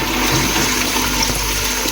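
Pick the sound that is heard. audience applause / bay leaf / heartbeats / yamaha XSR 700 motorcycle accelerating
bay leaf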